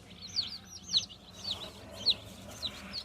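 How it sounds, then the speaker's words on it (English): Baby chickens at a feed store in Indio, California peep in high, sharp chirps about every half second, fairly close, over a quiet room. "they got these little chickens in here"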